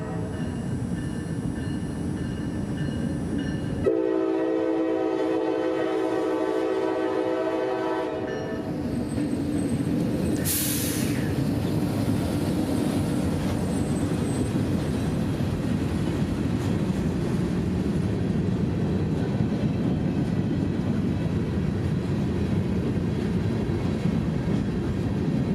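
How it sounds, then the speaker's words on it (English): A freight train led by a Jeep 38 locomotive hauls 11 loaded cement hoppers over Hillsborough Avenue in Tampa, passing loudly and close with a steady roar and rumble, a long horn blast, and a sharp squeal partway through. "with a relatively clean Jeep 38 in the lead, a nice crew, and 11 loaded cement hoppers, here came the Brooksville sub-local over Hillsborough Avenue in Tampa"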